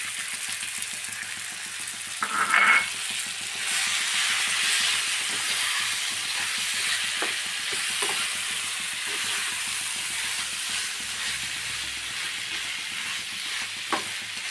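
Chicken roast frying in a pan with curry leaves and capsicum being added, with a steady broad sizzle and occasional stirring scrapes and clinks of a spoon throughout, no talking.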